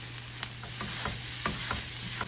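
Corned beef and egg are stirred in a lightly oiled frying pan, with a soft continuous sizzle and several scraping strokes of the utensil at close range.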